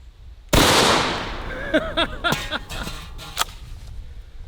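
A shotgun fires into a nearly full helium tank, producing a single sharp, loud blast followed by ringing pops and metallic echoes that fade over a few seconds.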